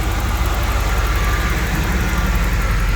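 A 1988 Pontiac Firebird Trans Am's 5.7L V8 idles steadily through its exhaust, a close, even low rumble with no voices over it.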